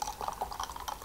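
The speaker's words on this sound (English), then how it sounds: "And just pour myself a little bit more cider." Cider poured into a glass, a brief, quiet gurgling trickle with small uneven splashes, close by and alone.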